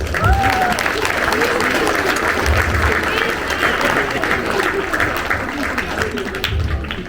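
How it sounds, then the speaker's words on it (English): Loud, sustained applause from the audience at a youth sports club's annual awards ceremony, dense steady clapping throughout with crowd murmur and some voices mixed in. "Big round of applause for the players."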